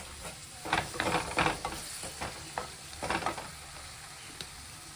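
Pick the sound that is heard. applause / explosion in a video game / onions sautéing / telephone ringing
onions sautéing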